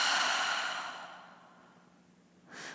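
Slow exhale through the mouth during a yoga practice, a close, soft breathy sigh fading out over about two seconds, followed by the start of a brief inhale.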